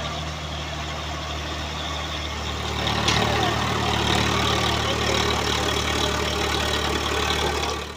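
A tractor engine runs steadily throughout, a low continuous idle-like drone that grows slightly louder after the first few seconds, with no voices.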